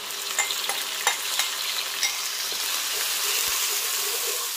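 A paste of blended dry chilies, big onion, garlic and ginger is stirred in a hot pan for black beef, with a loud, constant sizzle broken by a few sharp scraping clicks of the spatula early on.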